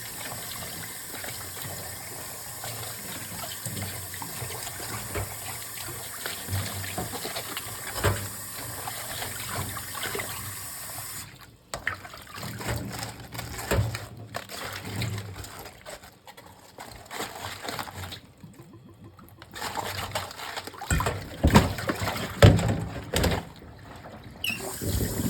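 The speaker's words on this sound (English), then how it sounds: "So now I am going to wash my cabbage leaves slightly." Tap water runs over cabbage leaves as they are rinsed one by one, giving a steady splashing trickle that shifts and grows busier partway through as the leaves are handled.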